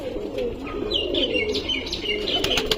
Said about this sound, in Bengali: ফিমেল পায়রা